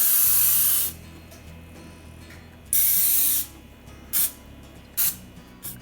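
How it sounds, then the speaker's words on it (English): Cooking oil sprayed from an aerosol can onto a baking pan while baking cinnamon rolls: a long hissing burst, then a second burst and two short puffs, close and loud over a quiet kitchen background. "Now you spray the pan with some cooking oil."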